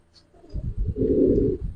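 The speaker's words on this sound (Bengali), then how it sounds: "এই যে কবুতর দেখেন, এই যে এটা নর কবুতর, নরটা দেখেন, এটা মাদিটা, দুইটা কবুতর দেখেন" Silver khaki pigeons coo close by, a few soft throaty pulses swelling into a longer low rolling coo, with faint chirps in a quiet room.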